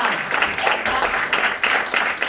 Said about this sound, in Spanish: un fort aplaudiment per la Geni!